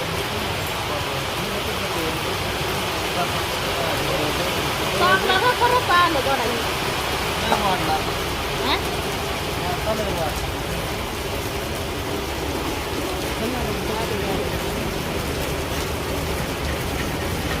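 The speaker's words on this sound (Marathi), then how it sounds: "चांगलाच पाऊस आलाय" Heavy rain pours down in a dense, steady roar that never lets up, with a few faint voices and clinks briefly surfacing underneath.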